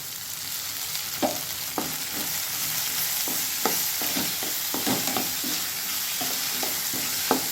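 Tomatoes sautéing with potato and okra and green chillies in a hot pan, a steady close sizzle broken by repeated sharp scrapes and knocks of a spoon stirring the mix.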